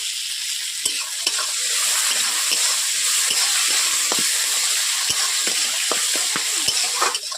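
Chopped tomato with a pinch of salt sizzles in a pan for prawn malai curry. A loud, continuous fry hiss runs throughout, punctuated by sharp spatula scrapes and stirring clicks at irregular intervals.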